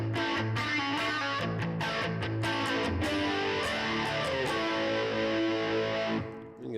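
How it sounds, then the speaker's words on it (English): An electric guitar runs through an Electric Flanger pedal into an amp, a sequence of plucked, sustained notes with a distorted, sweeping tone that rings out and fades at the end. "And especially like electric flanger, like this one sounds really good before the amp."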